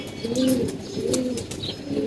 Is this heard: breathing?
no